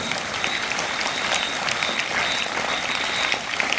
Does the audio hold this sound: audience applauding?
yes